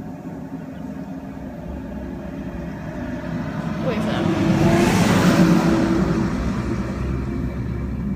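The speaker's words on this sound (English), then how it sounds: "Oop, here comes a trash truck." A garbage truck drives past outdoors, its engine rumble swelling from the distance to a peak mid-clip and then easing off, heard beneath a person talking.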